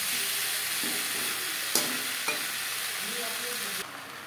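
Onion, tomato and potato fry in a pan with a steady, dense hiss of oil, close and continuous, broken by a couple of sharp knocks of a utensil before the sizzle drops off near the end.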